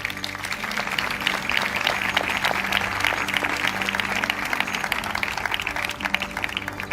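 Audience applause at an awards ceremony in Abu Dhabi following a youth choir performance, a steady wash of clapping with a low hum underneath, sustained and even for the whole stretch.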